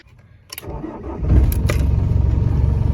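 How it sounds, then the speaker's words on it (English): A Ford Transit diesel engine cranks briefly, catches, and settles into a loud, steady rumbling idle close by. "we'll see how it performs starting this transit up"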